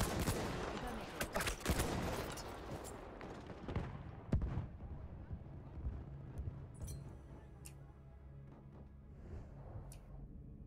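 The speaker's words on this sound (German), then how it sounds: "Die Koordinaten des Feindes wurden an unsere Artillerie übermittelt." Battlefield 1 front-line battle with artillery fire: dense, rumbling explosions and gunfire roll in a busy barrage for several seconds, then thin out to scattered distant bangs over a low steady battlefield din.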